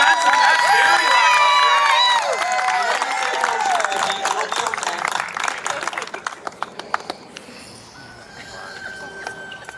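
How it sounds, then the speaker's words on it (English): An audience cheers and claps for Spencer, loud whoops and whistles over dense applause that thins into scattered claps and a few voices toward the end. "Let's give a big round of applause for Spencer."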